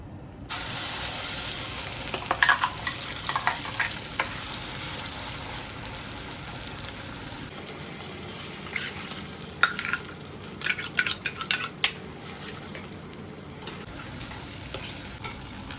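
Mutton for a Kolhapuri mutton rassa fries in a generous amount of oil, with a continuous soft sizzle, intermittent scraping stirs and light clinks of the utensil against the pan, close and fairly quiet with no voices.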